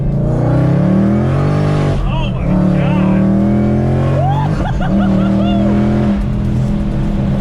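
A Whipple supercharged Ford Mustang S550 in Sport Plus mode pulls hard in second gear, with a loud, steady engine drone and a supercharger whine rising over it. Heard from inside the car, with an excited voice breaking in.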